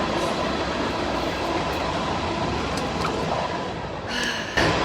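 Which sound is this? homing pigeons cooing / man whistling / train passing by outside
train passing by outside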